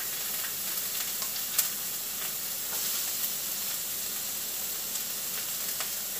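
Onions frying in a hot skillet give a steady, bright sizzle and hiss that runs the whole time, broken by a few faint stirring clicks, close and with no one talking.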